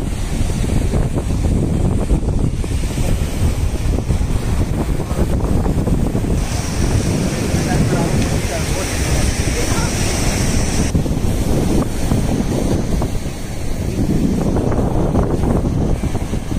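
Sea waves roll in on the Uppada coast, a loud continuous roar of surf that swells and eases in surges, with heavy wind noise on the microphone throughout.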